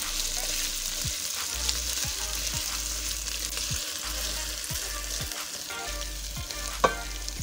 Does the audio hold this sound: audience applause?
no